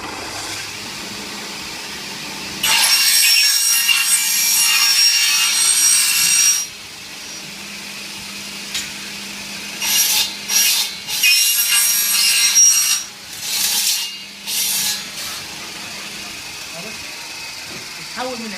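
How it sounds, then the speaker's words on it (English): A bar is hand-sawn through at a 45-degree angle, giving loud rasping strokes in a long run, then shorter bursts of sawing in quick succession, with quiet gaps in between. "Here's a video showing the cutting process."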